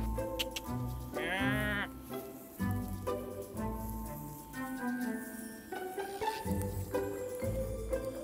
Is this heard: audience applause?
no